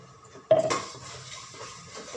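Ground spice paste for pav bhaji drops into a frying pan of fried ginger and garlic, giving one sudden clatter of pan and utensil followed by a soft, continuous frying hiss with a few faint scrapes.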